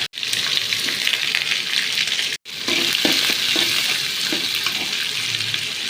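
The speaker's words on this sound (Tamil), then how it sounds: "4 பல்லு பூண்டு நச்சுட்டு சேர்த்துக்கலாம்" Crushed garlic fries in hot oil with onion and pirandai for a thuvaiyal, a loud continuous sizzle with small crackles and stirring clinks, briefly cut out near the start and middle.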